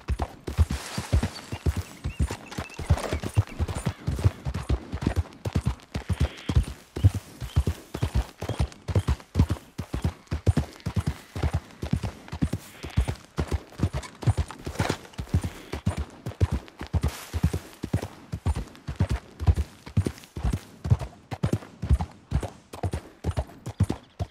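A horse gallops steadily in Red Dead Redemption 2, its hooves pounding out a fast, even, rhythmic clip-clop that stays close and continuous throughout.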